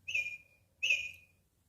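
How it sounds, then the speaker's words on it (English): A LeapFrog Learning Friends interactive animal book plays a bird sound: two bright, whistle-like chirps, each about half a second, evenly spaced, clear and close with no talking. "Bird."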